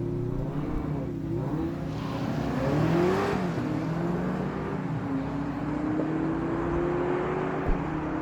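Drag race at a no-prep dragway between a BMW X6 M60 V8 and a Toyota Corolla: a steady, loud engine drone with a rising and falling tone, heard from a distance.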